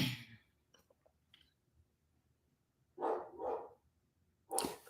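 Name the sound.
dog barking in the background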